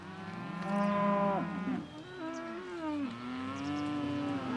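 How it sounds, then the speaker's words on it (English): Cattle moo loudly and repeatedly at close range, several long drawn-out calls overlapping as the herd is walked in from a muddy field toward the barn; no talking. "it's time for the cows to come in"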